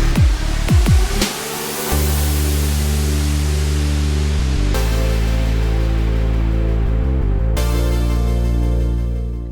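White noise effect sweeps in as a transition from verse into pre-chorus in a remake made in FL Studio, a loud hissing wash layered over full synth chords and bass, after a few quick descending hits.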